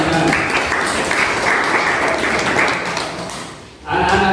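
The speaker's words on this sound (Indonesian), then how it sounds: "Tepuk tangan untuk kalian semua." Classroom applause from a group of schoolchildren during an Indonesian lesson, a dense steady clatter of clapping that runs close and loud for about four seconds, dips briefly near the end, then resumes.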